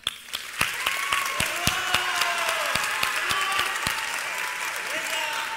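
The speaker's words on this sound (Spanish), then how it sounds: "Todas aquí merecemos un gran aplauso" Loud, sustained crowd applause fills a hall at the Teen Universe 2021 pageant show, with sharp individual claps and scattered whoops and whistles riding over the steady roar.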